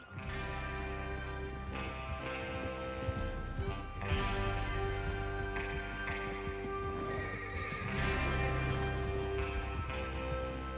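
Horses whinny repeatedly over steady clip-clopping hooves and a constant background bed in the video game Red Dead Redemption 2, continuous for several seconds with no talking.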